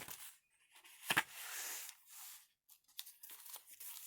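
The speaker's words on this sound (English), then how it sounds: "Tea-dyed paper." Tea-dyed paper handled for a collage on a handmade beaded journal, with a sharp tearing rip followed by soft, close crinkling and rustling, quiet with brief gaps.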